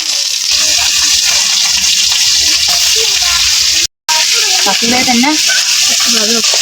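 Fish coated in turmeric and salt sizzles loudly and steadily in hot oil, with a brief cut in the middle and a voice talking over the frying.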